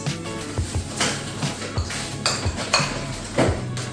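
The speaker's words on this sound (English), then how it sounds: "And just stir it all around." Chicken and chorizo pasta is stirred in a pan, with a utensil repeatedly scraping and clinking against the metal in an uneven rhythm, close and fairly loud.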